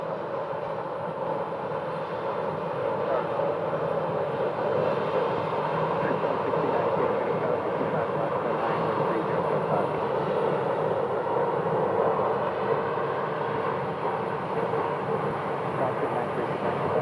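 A Breeze Airways airliner on the runway at Phoenix Sky Harbor produces a steady, broad jet roar that stays even and continuous for the whole stretch, heard from a distance.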